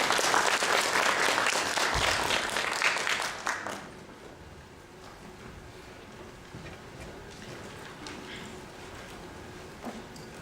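Audience applause welcoming a lawyer to the stage at the LODAC 2018 data conference; dense, steady clapping fills the hall for about four seconds, then thins out to scattered claps and quiet room noise.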